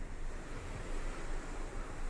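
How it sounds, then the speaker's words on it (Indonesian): Sea waves washing against the KM Sinabung passenger ship as it rocks on moderate swell, a loud continuous rushing roar with wind buffeting the microphone and gentle surges, no speech. "jadi ini menandakan sudah musim ombak dan ini ombak"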